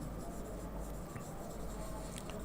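Pen or marker scratching steadily across a writing surface while a Hindi-speaking teacher works out a matrix inverse by elementary transformations, a continuous rubbing texture with faint strokes, close and fairly loud, with no speech over it.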